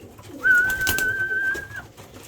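A racing pigeon in a loft gives one steady drawn-out call lasting over a second, near and clear against a quiet background.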